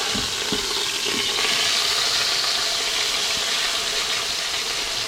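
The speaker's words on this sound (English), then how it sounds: "we're getting a good sear on this" Beef searing in a hot pan for a French dip sandwich, a loud continuous sizzle with a few clicks and knocks of handling near the start, close and without talk.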